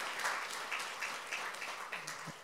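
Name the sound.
congregation applauding in church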